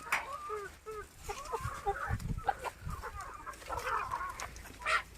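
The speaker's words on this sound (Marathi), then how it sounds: "कोंबड्या वाट बघतात कधी खायला टाकतो इथं" Free-range country chickens on a small farm cluck and squawk near the listener while waiting to be fed, overlapping calls coming in irregular bursts, with faint background voices.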